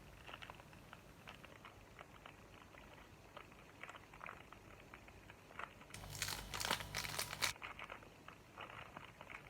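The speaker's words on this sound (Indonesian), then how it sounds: "Nah, ini buka juga kemasannya." Crinkly plastic packaging being opened, faint scattered crackles and rustles that swell into a louder, dense crinkling burst near the end before fading back down.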